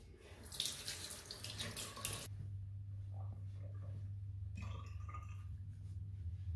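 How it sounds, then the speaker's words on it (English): Water runs loudly from a tap for about two seconds, then comes softer splashing as a face is wet, all over a steady low hum. "So let me wet my face, dry it off,"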